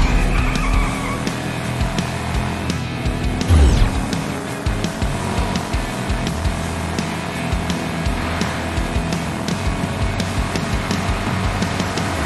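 A race car in the mobile game Hot Wheels Unlimited skids with long squealing tires over a roaring engine, a brief heavier thump around the middle, continuous and loud throughout with no voices.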